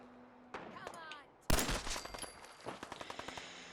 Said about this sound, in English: You can see a guy up there shooting down with a laser rifle.